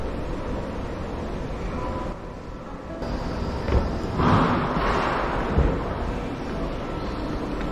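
A Mugunghwa passenger train rumbles close by at a station platform with a steady mechanical drone, a brief dip midway, then swelling rattles and gusts of wind buffeting the microphone.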